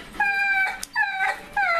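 An excited dog whimpers in high, wavering whines, three drawn-out cries with a short gap between them, close by and clear, with no talking.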